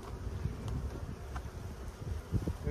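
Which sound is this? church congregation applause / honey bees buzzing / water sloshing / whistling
honey bees buzzing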